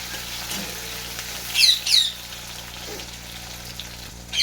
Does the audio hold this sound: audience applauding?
no